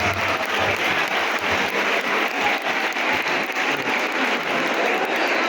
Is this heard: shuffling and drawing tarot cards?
no